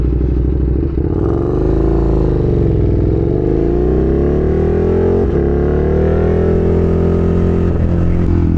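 KTM 1290 Super Duke R sport motorcycle engine revving loudly and steadily up close, with rising and falling pitch as the throttle opens and eases across the whole stretch, no talking over it.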